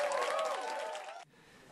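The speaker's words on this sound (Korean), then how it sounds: "강의실에 등장하자 환호성이 터져나옵니다" Students in a lecture room break into a loud burst of cheering and applause as musical actor Brad Little, the Phantom in The Phantom of the Opera, walks in; the roar holds steady, then drops sharply to a quieter murmur.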